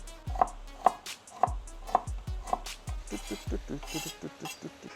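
A knife chops celery, carrot and onion for borscht on a board, five evenly spaced sharp thuds followed by a quicker run of lighter cuts, close and crisp, with faint speech in the background.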